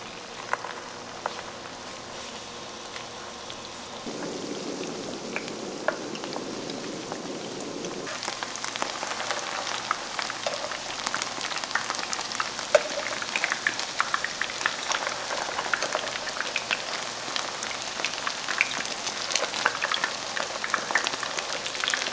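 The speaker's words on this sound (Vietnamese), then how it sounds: "Khi dầu đã nóng thì mình cho từng viên chả vào chiên." Vegetarian mushroom patties frying in a pan of hot oil, a steady crackling sizzle that swells as more patties go in, continuous and close with no talk.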